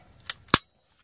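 A Daisy 880 .177 air rifle fires a single 3.5-grain poly Rhino pellet: a faint click, then one sharp, close crack and a quick decay into silence.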